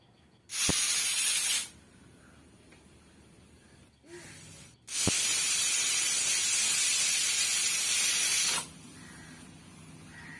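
A pressure cooker cooking nihari lets out two loud bursts of hissing steam from its whistle, a short one and then a long sustained blast, with quiet gaps between.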